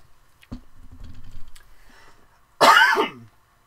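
A quiet clatter of small sounds, then one sharp, loud cough from a wrestling announcer bursts out close by before fading to silence.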